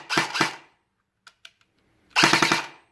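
Nuprol Romeo airsoft AK firing in semi-auto, two sharp close snaps, a couple of faint mechanical clicks, then a quick string of rapid shots.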